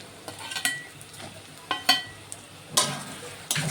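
Hilsa fish pieces go into a pan of lightly browned onions, giving a soft, faint sizzle broken by scattered spatula scrapes and metallic clinks.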